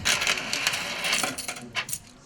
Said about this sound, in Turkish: çok bozuk para verdi